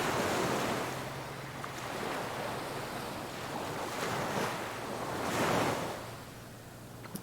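Ocean waves washing onto a peaceful beach shoreline, a soft continuous surf wash that swells and recedes in slow surges, with light wind noise and no voices.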